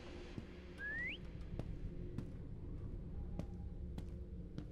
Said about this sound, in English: That whistle was kind of far.